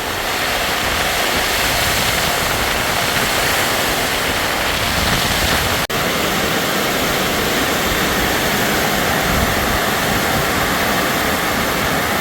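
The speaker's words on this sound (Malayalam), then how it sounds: "തകർത്തും മഴയാണ്, ഒരു രക്ഷയില്ല." Heavy rain and strong wind roar across the Kodikuthimala hilltop in Malappuram, a dense, loud, unbroken wash of noise close to the microphone with no talk.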